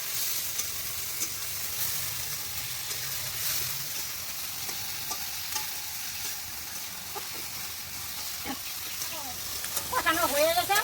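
Spiced soybean curry with salt and turmeric sizzling and being stirred in a pan, a steady frying hiss with occasional scrapes, growing busier with clinks near the end.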